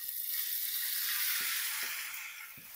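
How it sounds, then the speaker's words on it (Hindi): Chicken frying in a frying pan with a little oil for chicken soup, a loud steady hiss of sizzling with a few soft clicks of stirring, fading slightly at the end. "अब यहाँ पे मैं चिकन को तकरीबन 1 से 2 मिनट तक फ्राई कर लूंगा"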